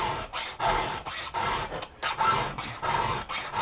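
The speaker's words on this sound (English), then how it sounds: "quick little touch-up filing on a skip-tooth chain" A hand file rasps across the teeth of a skip-tooth chainsaw chain in repeated close strokes, each a gritty scrape separated by short pauses, steady and moderately loud with no talking.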